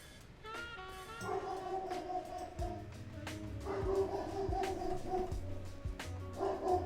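Casper, a dog near a litter of puppies, lets out repeated close barks and whimpering yips in uneven bursts. Low background noise fills the gaps between them.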